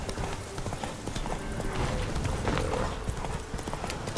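Horse hooves clip-clopping in a steady galloping rhythm in The Witcher 3, continuous and moderately close throughout, fairly quiet in the mix.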